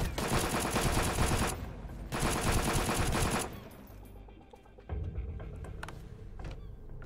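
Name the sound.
gunfire shooting at a copper node in video game Sunkenland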